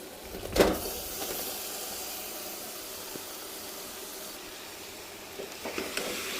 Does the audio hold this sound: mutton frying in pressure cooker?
yes